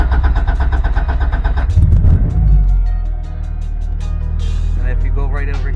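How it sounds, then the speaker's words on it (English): A Honda Integra fitted with a Hondata S300 engine management unit cranks and starts up, the engine catching with a surge of revs before settling into a steady, loud idle nearby. "I'll start the car."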